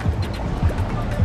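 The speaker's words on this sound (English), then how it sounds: "There's these little weak sauce waves here." Small, weak waves lap at a Cancun beach in soft, rhythmic washes over steady surf noise, close by, with people talking faintly.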